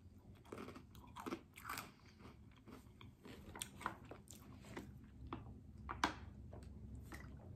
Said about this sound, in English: And I'm eating some just pretzels.